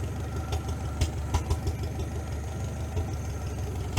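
Engine of a 1947 Farmall H tractor running fully off choke, a steady near idle with a regular low chugging beat and occasional louder knocks, no one talking.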